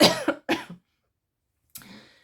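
A quick burst of two or three close coughs, a pause of silence, then one more cough that fades out.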